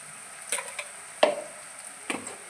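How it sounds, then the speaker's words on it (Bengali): Onion and garlic frying in a pan for a dried shrimp bharta, a soft quiet sizzle punctuated by three or four sharp utensil taps against the pan, close. "পেঁয়াজ রসুনটা ভাজা হয়ে গেছে।"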